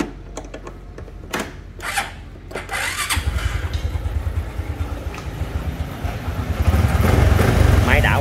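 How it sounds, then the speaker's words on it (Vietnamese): A Honda Wave 125i motorcycle engine with a newly fitted carburetor starts after a few sharp clicks, then idles with a fast, even putter that swells into a louder rev near the end, heard up close. "Máy em ru nghe nha, gắn bình vô đó, mới gắn bình vô."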